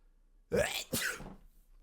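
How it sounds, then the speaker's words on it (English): A single close sneeze, a sharp intake followed by a burst, with quiet room tone around it. "Excuse me, I have to sneeze."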